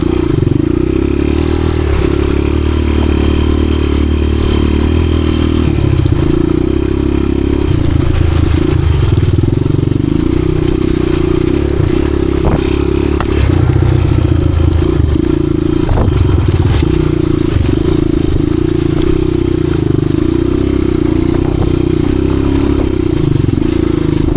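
A 1986 Honda XR200R dirt bike with worn rear wheel bearings rides tight single-track trail, its engine droning steadily and loud close up, with throttle swells, clatter and scrapes from the terrain throughout.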